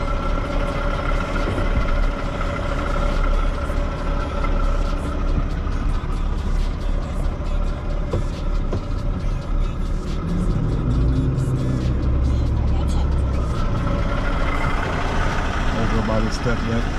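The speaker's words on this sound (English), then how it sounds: "So just gonna back up this trailer" A hotshot pickup truck backing up a trailer at a New Jersey site, its engine idling and rumbling steadily at close range with a brief hiss near the end, while someone talks over it.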